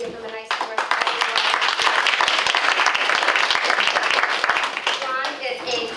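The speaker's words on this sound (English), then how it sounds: "so we can give them a nice warm round of applause" A community presentation audience breaks into warm applause, crisp individual claps building quickly into loud, steady clapping that holds, with a voice briefly audible at the start and end.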